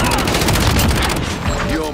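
Rapid automatic gunfire crackles through a Call of Duty: Modern Warfare multiplayer match, with dense, loud, close bursts of shots and game noise throughout.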